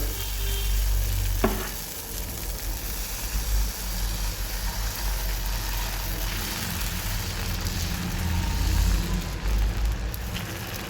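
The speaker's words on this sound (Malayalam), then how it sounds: "അടുത്ത മാവും കൂടെ കോരി ഒഴിച്ച് കൊടുക്കുന്നുണ്ട്" Dosa batter for a Mulbagal-style ghee masala dosa hisses on a hot griddle in a loud, steady sizzle that fills the whole stretch, with a brief clink near the start and no voices.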